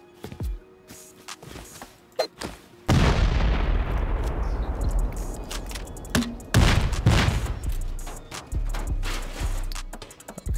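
A C4 charge detonates while raiding a rowboat base in a survival video game, a sharp booming blast with a long rumbling decay, followed by more heavy explosive thuds and crashes, loud and close, with no talking.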